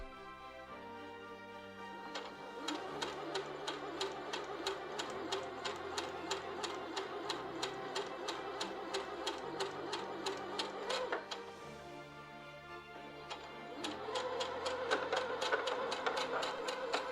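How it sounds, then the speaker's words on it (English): An EverSewn Hero sewing machine runs a quarter-inch seam joining two 2.5-inch fabric blocks, its needle ticking in a fast, even mechanical rhythm that pauses briefly midway and then resumes slightly louder. "Now that our sewing machine is set up to sew a 1/4 inch"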